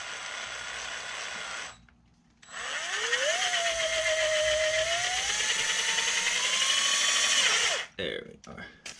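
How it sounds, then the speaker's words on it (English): A power drill drives a screw into a press-fit part, a steady rising whine that runs for several seconds after a brief pause, then cuts off abruptly, with clattering afterward. "I'm going to try to drill a hole with the screw into it"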